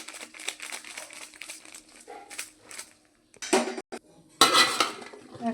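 Vegetables being mixed by hand with turmeric and salt in a bowl, a run of soft close crinkles and clinks in uneven bursts with brief quiet gaps.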